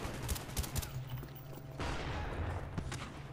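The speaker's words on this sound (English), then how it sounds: "Trying to use my pistol ammo up." Quiet pistol gunfire in Call of Duty Black Ops comes as a rapid series of sharp, snappy shots in two bursts, set against steady low game ambience.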